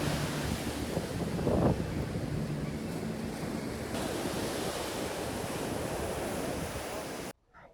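Waves wash steadily onto a quiet beach below a cliff on the Caldes d'Estrac coast, with a continuous surf roar and some wind buffeting the microphone, and no voices.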